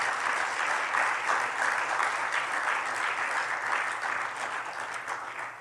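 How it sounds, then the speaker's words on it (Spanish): A church congregation applauds during a sermon, loud dense clapping that holds steady for several seconds and then eases slightly toward the end. "¿Le damos un aplauso al Señor?"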